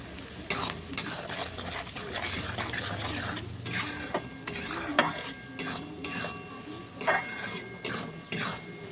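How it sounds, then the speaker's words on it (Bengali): Onions fry in a pan with salt and turmeric while a utensil stirs and scrapes against the metal in repeated sharp strokes over a soft, steady sizzle, close up and with no talking. "এবার নেড়ে নিচ্ছি"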